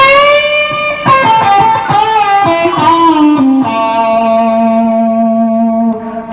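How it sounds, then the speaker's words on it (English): Electric guitar with overdrive plays a short melodic phrase with bends, ending on a long sustained note that rings out alone. "We put a little distortion on that."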